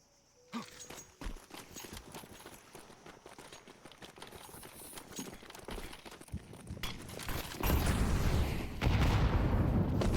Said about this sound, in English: big nade from Lone Star, but he's still going to get his head blown off